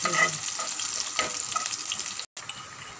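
Onions fry in a pan for an Assamese taro stem and rohu fish head dish, giving a loud, continuous close sizzle with faint stirring scrapes, broken by a brief drop-out near the end.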